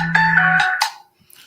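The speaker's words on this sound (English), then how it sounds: "I'm really sorry that my phone is going off" A mobile phone ringtone sounds as a short, steady electronic melody, loud and close, then stops.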